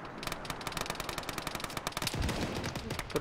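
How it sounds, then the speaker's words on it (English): Rapid bursts of automatic gunfire in a multiplayer war game, a fast crackling rhythm of shots that keeps going throughout, mid-distance and fairly loud, with heavier impacts mixed in toward the end and no talking. "Guys, I think we're getting shot at."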